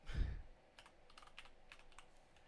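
Typing on a computer keyboard while writing C++ code, a short run of light, scattered key clicks at close range, fairly quiet, with a soft thump at the start and no talking.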